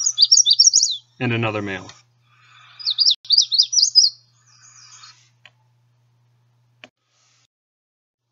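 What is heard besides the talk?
male warbler song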